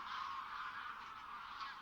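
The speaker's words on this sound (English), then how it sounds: "the sky is full of wild geese" Wild geese honking in a continuous overlapping chorus, a dense flock calling steadily at moderate distance with no talk.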